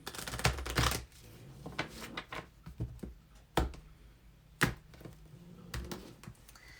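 Tarot card decks shuffled by hand at close range, giving a run of crisp riffling bursts and quick taps with short gaps, loudest near the start and alone without talk.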